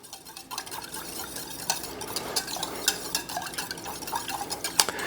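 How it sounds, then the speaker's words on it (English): A whisk stirs tomato puree into a Texas red chili mix, making rhythmic scraping and clinking strokes against the pot that repeat steadily at close range. "We're going to stir it up with a whisk to get it nice and incorporated together."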